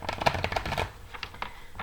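Tarot cards being shuffled by hand, a quick run of soft riffling flicks and papery taps for about two seconds, close and fairly quiet with no talking.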